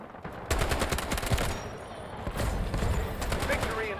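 Automatic rifle fire in the Delta Force shooter game, several bursts of rapid shots over about four seconds, with players talking over the gunfire.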